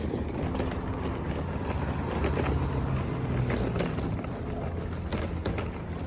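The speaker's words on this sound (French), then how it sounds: "Excusez le bruit de mon chariot." A shopping cart rolls along a city street near the Angus market, giving a continuous rattling, rumbling clatter with faint ratchet-like ticking, close to the microphone and steady throughout, with no speech.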